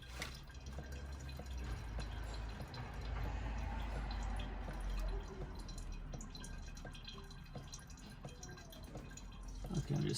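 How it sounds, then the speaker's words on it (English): Engine oil drains from a partly loosened oil filter on a Ford F-150, a close, steady trickle and patter of dripping liquid with a low rumble underneath, continuous and without talk. "All this oil is just going to drain through there."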